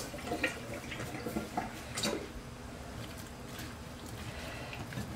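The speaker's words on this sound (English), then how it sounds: "Let me quick wash it" Running tap water at a kitchen sink as tomatoes are given a quick wash, with soft splashing and drips at low level and a few sharper spatters, with no talk.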